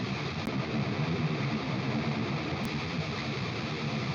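A thick, steady distorted electric guitar tone runs through an API colour EQ, a continuous dense wash at moderate level with no talking and two faint clicks.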